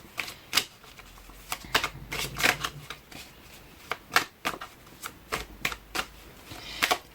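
Tarot cards are shuffled in a quick run of crisp, papery riffles and slaps, arriving in uneven bursts close up, with no talking over them.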